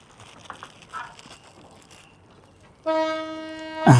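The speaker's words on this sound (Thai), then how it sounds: "จังหวะเดียวกันรถไฟมาก็มาพอดีครับเสียงบูดมาแล้วครับ" A train crossing the River Kwai bridge in Thailand sounds a steady, loud horn that enters near the end after quieter ambient noise, a brief sharper burst closing it.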